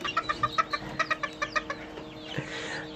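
A Serama chicken clucks in a steady, rapid series of about a dozen short, close notes, then trails into a softer drawn-out call.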